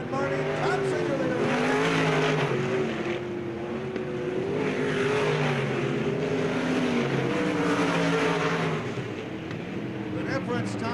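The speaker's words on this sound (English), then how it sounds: "Thompson accelerating into the bottom side of turn 1" Race cars roar around a dirt speedway oval, engines rising and falling as they accelerate into the turn, a continuous loud drone under a radio announcer's fast commentary.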